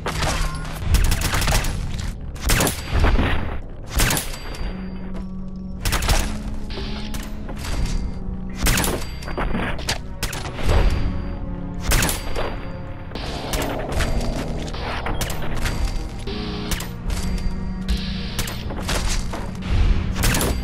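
Rapid, loud gunfire from the Deliverer pistol in Fallout 4 keeps up across about twenty seconds, with sharp, dense bursts of shots and heavy thuds and mechanical clanks, and no talking.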